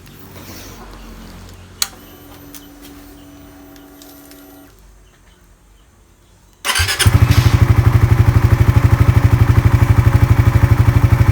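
A 2022 Yamaha Raider 150 Fi motorcycle starts after an oil change: a quiet stretch with small clicks and a faint whir, then the engine catches and settles into a loud, rapid, steady idle putter close by.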